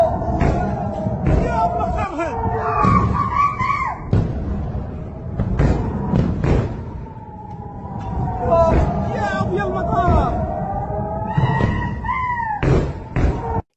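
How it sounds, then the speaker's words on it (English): Bahrainis cheering as missiles rain down on US military bases in Bahrain: a crowd shouts and calls out in rising, wavering voices, punctuated by loud thuds and bangs throughout. "In these videos, you can hear Bahrainis cheering on the attacks."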